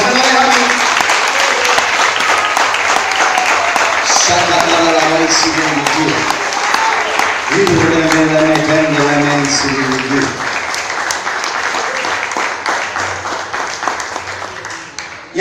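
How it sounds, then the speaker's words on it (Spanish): Church congregation applauding during a Sunday service, dense steady clapping filling the room under a preacher's loud Spanish speech and music throughout. "Ese aplauso va a ser a Cristo, no me lo deja a mí."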